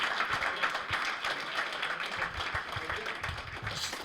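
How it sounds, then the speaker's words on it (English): Audience applause at an international football betting conference, a steady wash of clapping from a crowd, fairly faint and distant, with some voices mixed in. "can we get a big round of applause right here?"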